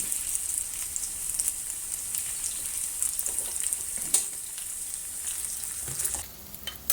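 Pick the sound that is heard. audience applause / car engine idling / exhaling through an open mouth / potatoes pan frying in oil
potatoes pan frying in oil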